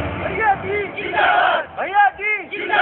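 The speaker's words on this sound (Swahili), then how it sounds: "Bado wanashangilia tu." A crowd at a celebratory Indian religious ceremony cheers loudly in repeated chanted bursts. The voices rise and fall in waves, and a pause comes before two strong rhythmic shouts near the end.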